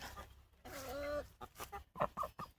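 Several chickens cluck softly nearby, with short, irregular clucks and one drawn-out call, no voices present.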